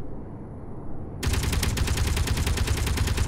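Gun turret in the Space Engineers video game opening fire: after a quiet stretch, a loud rapid automatic burst of evenly spaced shots runs continuously to the end.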